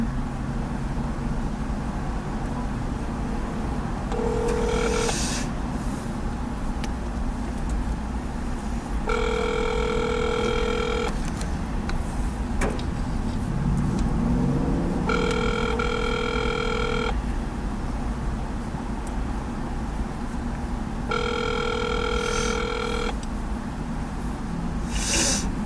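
A phone call's ringback tone sounds alone in four evenly spaced electronic ringing bursts, each a couple of seconds long with pauses between, over a low steady background hum.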